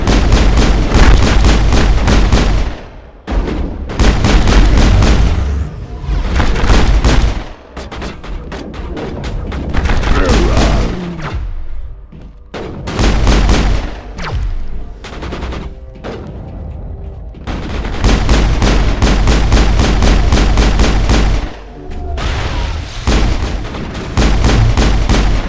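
Weapon fire in the sci-fi video game Mass Effect: loud, repeated bursts of shots and booming impacts, coming in long clusters separated by brief lulls.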